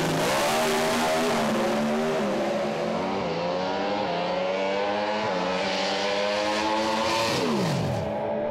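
A drag racing car roars away from the start line, a loud, close engine climbing steadily in pitch through a long pull before dropping sharply near the end, with no talk.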